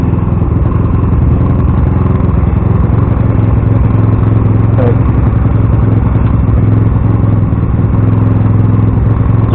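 A Suzuki GSXR 50cc motorcycle being ridden, its small engine buzzing and rattling steadily at close range with a constant busy clatter and no pauses.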